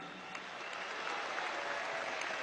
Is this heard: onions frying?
no